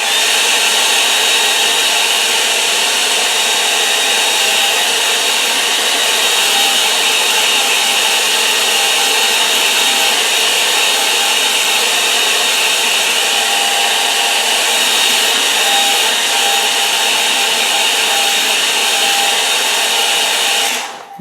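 A hair dryer blows steadily and loudly up close, drying a watercolour painting, a constant airy roar with no talking, cutting off abruptly at the end.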